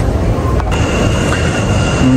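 A metro train runs past at close range with a loud, continuous rumble of wheels on track and a faint high whine on top.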